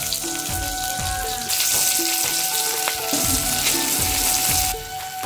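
Spice paste with dried red chillies sizzling hard in a hot pan, a steady crackling fry that gets louder partway through, with light stirring scrapes and no talking.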